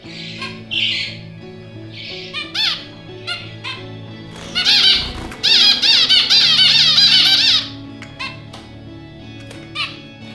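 Several finches in a small space give bursts of sharp squawks and chirps, close and loud, some short and some held for a couple of seconds, with quiet gaps between them.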